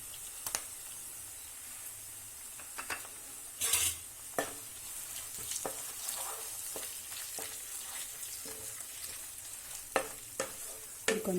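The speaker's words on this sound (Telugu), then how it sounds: "ఆనియన్స్ గోల్డెన్ బ్రౌన్ కలర్లోకి వచ్చిన తర్వాత ఆనియన్స్ వేగిపోయాయి" Onions fry in a pan until golden brown, with a soft, constant sizzle broken by occasional sharper clinks and scrapes of stirring, all fairly quiet and close.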